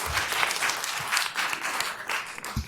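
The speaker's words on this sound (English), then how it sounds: "We waste other people's time with the clapping, and it really has no effect, zero effect." Audience applause fills a county commission meeting room, a steady wash of many hands clapping throughout with a few louder close claps, no speech over it.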